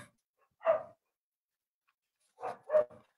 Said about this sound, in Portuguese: Esses são meus cachorros ao fundo.